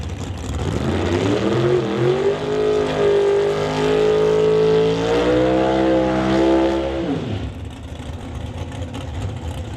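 A 1968 Camaro drag racing car's engine roars loud and close, rising in pitch as it revs, holding a steady high snarl, then dropping away sharply near the end.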